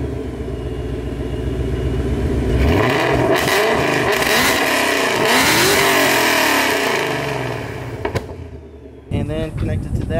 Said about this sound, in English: my favorite things about this car, actually it might be my favorite, is the exhaust. Absolutely insane